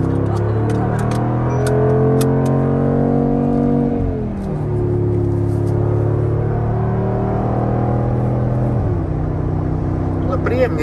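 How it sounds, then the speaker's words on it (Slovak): A 2020 Mercedes G63 AMG rumbles along an empty snowy hill road, its engine note rising and falling with throttle changes, heard from inside the cabin with voices talking over it. "Prázdna cesta, kopce. Auto si len zabrúči. Ženie sa vpred"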